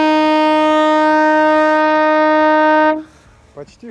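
A loud, sustained horn blast sounds in a forest to guide a lost person, a steady harmonic tone like a steamship whistle that holds for about three seconds before cutting off, followed by a voice speaking briefly.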